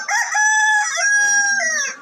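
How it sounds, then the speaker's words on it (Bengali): A crested hill-breed rooster at a poultry market crows once, loud and close, a sustained strained call lasting about two seconds with no other sound around it. "সব পাহাড়ি জাতের ঝুটি মুরগ"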